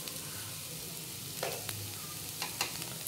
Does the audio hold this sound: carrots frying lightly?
yes